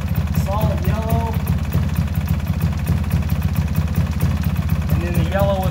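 A Polaris ATV engine idles steadily with a low, even pulsing drone close by, running continuously throughout while someone talks over it in short bursts.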